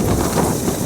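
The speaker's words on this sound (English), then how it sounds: "I didn't want to set up the tent in this raging wind" Storm wind roars steadily around a tent pitched on the South Pole ice, a dense, loud, unbroken rush of noise with no pauses.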